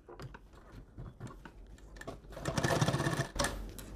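A sewing machine stitches a fabric face mask in a fast, steady run that grows louder and denser toward the end, with a few soft clicks of handling before it starts.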